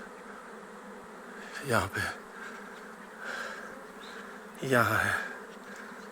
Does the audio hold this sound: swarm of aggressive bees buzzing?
yes